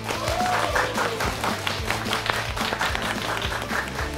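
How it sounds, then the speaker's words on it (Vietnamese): A studio audience claps to welcome a guest onto the stage of a Vietnamese show, with fairly loud, rapid applause over a low musical backing. "chúng ta hãy cùng dành một tràng pháo tay thật là to để có thể chào đón vị khách mời này"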